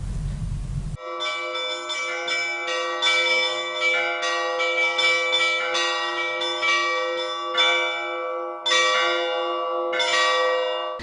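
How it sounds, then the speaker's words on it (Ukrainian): Church bells in Novovolynsk, Ukraine, ringing in a melodic sequence of overlapping clear strikes with long sustained tones, loud and resonant, with a brief burst of noise at the very start and no voices. "Дзвони стали візиткою сучасного Нововолинська, що на кордоні з Польщею."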